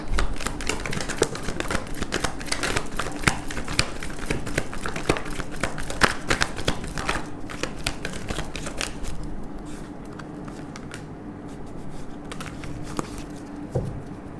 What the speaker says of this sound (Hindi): एक ही शफल करूँगी गाइज, जो कार्ड आना है आ जाए